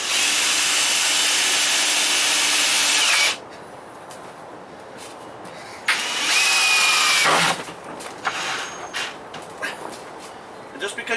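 A Ryobi power drill drives an oversized screw into wood without a pilot hole. It whines loudly for about three seconds, then makes a shorter second burst, with talking in the quieter gaps.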